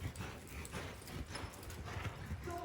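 A horse trots on a circle, its hooves striking in a quick, even rhythm nearby with no talk over them.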